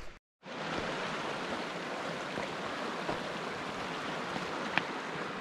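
A mountain creek rushes along beside a hiking trail, a steady, broadband wash of flowing water heard fairly close, continuous after a brief silence at the start, with no voices.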